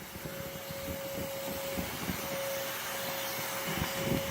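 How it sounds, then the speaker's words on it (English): A vacuum sucks soil out of the ground while excavating a yellow jacket nest, giving a constant airy roar with a steady whine, broken by irregular rattling thumps as debris is pulled through. "Doing a lot of excavating with the vacuum."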